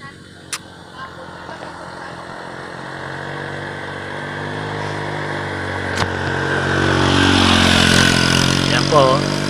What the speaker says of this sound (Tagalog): Yan po, hirap na hirap ang motor